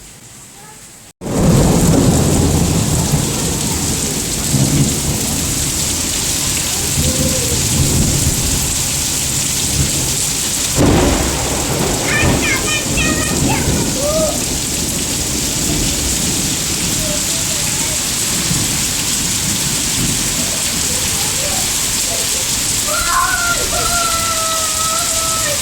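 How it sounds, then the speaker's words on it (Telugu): Heavy rain pouring at night with large drops during a power cut, loud and continuous, with a sharp crack of thunder partway through and faint voices now and then. "ఇగ మస్తు పెద్ద పెద్ద చినుకులయితే పడుతున్నాయి."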